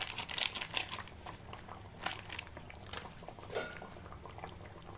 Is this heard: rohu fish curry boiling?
yes